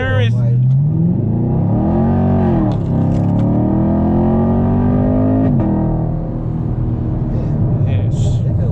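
A 2019 Chevrolet Camaro SS roars loud and close as its exhaust rises and falls through deep revs, with a brief dip midway and some crackle toward the end.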